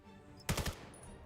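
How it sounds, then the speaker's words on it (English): Gunfire in a competitive match of a shooter video game: a quick burst of three or four sharp shots after a quiet stretch, fairly close and loud, with no talk. "Oh, gunshots heard."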